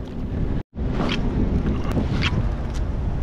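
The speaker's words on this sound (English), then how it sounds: "it's just real windy right there." Heavy offshore wind on open sea roars and buffets a microphone on a fishing jet ski, a constant loud rumble with gusty swells and one brief dropout.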